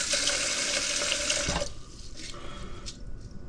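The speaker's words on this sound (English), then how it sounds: "Here's the most difficult part of rice in a rice cooker, adding the right amount of water." Water streams steadily from a tap into a rice cooker pot for about a second and a half, loud and close, then cuts off, leaving quieter dripping and handling sounds.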